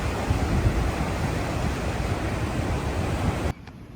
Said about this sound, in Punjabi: ਇੱਦਾਂ ਪਾਣੀ ਦਾ ਇੰਨਾ ਜ਼ੋਰ ਹੈ ਕਿ ਆਹ ਇਹਦੀ ਅਸਲੀ ਆਵਾਜ਼ ਹੈ